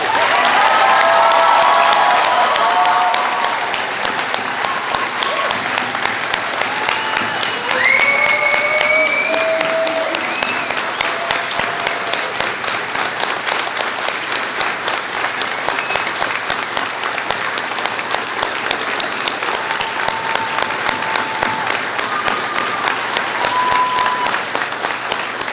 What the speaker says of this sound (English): Let's clap one more time for our graduates.